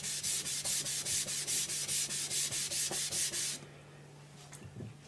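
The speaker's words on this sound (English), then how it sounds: "strop the knife to make sure that you remove the burr when you're done sharpening" A knife blade stroked repeatedly across a sharpening stone, about fifteen even rhythmic rasping passes, close and loud, stopping abruptly partway, followed by a few faint scrapes.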